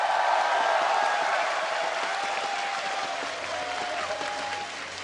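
Esports arena audience at a regional finals match applauds and cheers loudly, a dense burst of clapping that gradually fades over several seconds.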